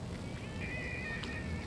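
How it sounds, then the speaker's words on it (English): Birds near SFO airport giving an odd honking, quacking call, a faint drawn-out cry over steady outdoor background noise. "That's a weird noise from those birds."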